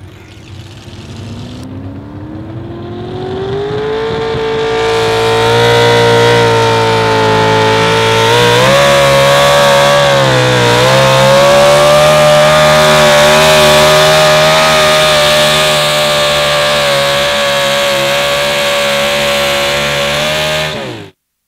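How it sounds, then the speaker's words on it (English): A big-block Chevrolet pickup engine roars loudly at an outlaw 4x4 truck pull, revving up to a sustained high-pitched howl that holds for many seconds before cutting off abruptly. "Now you can hear him backpedal that big block Chevrolet as he come out of the hole there."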